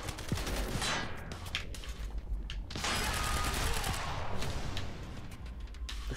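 Sustained enemy gunfire in the video game Quantum Break, dense overlapping bursts with a short lull before the shooting swells again, loud and continuous throughout.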